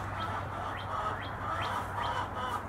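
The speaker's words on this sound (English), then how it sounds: "those are my chickens, and they're hungry" Hungry chickens outdoors give repeated squawking calls roughly every half second over a low background hum, fairly faint and at moderate distance.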